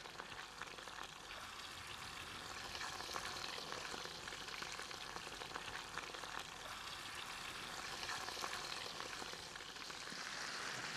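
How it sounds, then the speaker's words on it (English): Fish and chips fry in olive oil in a heavy-duty frying pan at an outdoor bush cooking spot, giving a steady close crackling sizzle with spitting pops that never stops, and no voices over it. "Fish and chips in olive oil,"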